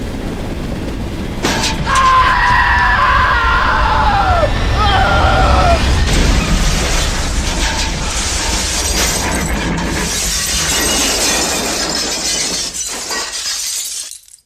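A dramatic crash effect of a railway viaduct collapsing beneath a train over Lake Superior, loud and sustained, with shattering glass, breaking debris and booms that slowly fade out at the end.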